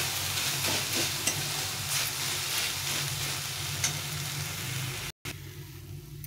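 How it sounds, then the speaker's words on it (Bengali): Chhana (cottage cheese) stirred with sugar in a pan, a steady close scraping and soft sizzling over a low continuous hum, broken once by a brief cut. "এভাবে ভালো করে চিনির সঙ্গে ছানাটাকে মিক্স করে নিতে হবে।"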